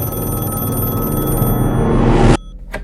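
A telephone ringing loudly and steadily in the foreground of a horror story, a dense, sustained ring that cuts off abruptly near the end, followed by a brief faint click.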